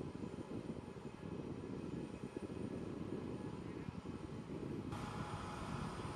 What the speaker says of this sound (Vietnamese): C5M Super Galaxy không chỉ là một máy bay vận tải quân sự thông thường